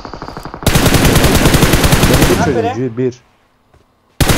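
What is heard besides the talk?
gunfire in a mobile battle royale video game (PUBG Mobile)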